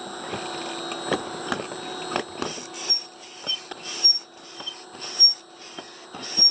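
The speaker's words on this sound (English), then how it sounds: "I'm going to take the foot pump and increase pressure" Manual foot pump being worked by hand to raise air pressure on an industrial pressure transmitter setup: a series of irregular breathy puffs and clicks, close by, over a steady electrical hum with high tonal whines.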